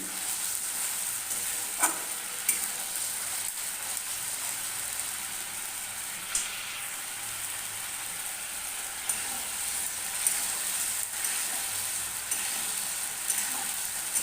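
Ginger and cumin paste frying in a pan over a medium flame, a steady close sizzle with occasional light scraping clicks from stirring throughout.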